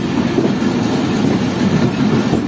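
A train rake stands at a Pakistani railway station platform, with a steady low rumble and faint clatter throughout, loud and continuous with no voices.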